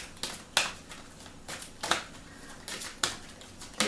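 Tarot cards are shuffled by hand, giving a series of soft, quick riffling bursts at irregular intervals, close and fairly quiet.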